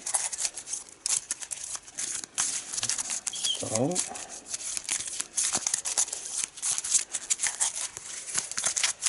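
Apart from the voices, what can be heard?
shuffling sleeved cards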